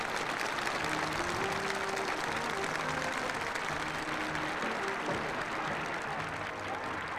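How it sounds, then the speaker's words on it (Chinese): An audience at a 1979 performance applauds steadily throughout, dense and even clapping that stays loud and unbroken, with a faint murmur of voices underneath. "邓小平看得很投入，频频鼓掌，连连称好。"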